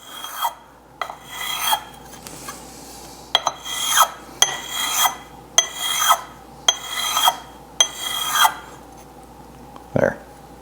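A file rasps across the sharp corners of a steel card scraper in about eight firm, evenly spaced strokes, close and loud, ending with a light clink.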